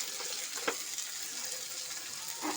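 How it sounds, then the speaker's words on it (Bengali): Sliced onions, fried until reddish-brown, sizzle in a pan of hot oil for a pointed gourd curry, making a steady close hiss with a faint scrape or stir. "পেঁয়াজটা লাল লাল ভাজা হয়ে এসছে এবার টমেটোটা দিয়ে দেবো"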